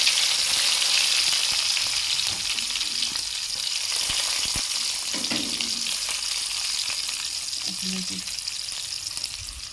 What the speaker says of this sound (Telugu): వెల్లుల్లిపాయలు వేగాయండి మనకి. ఉల్లిపాయ అయితే వేసేస్తున్నాను నేను.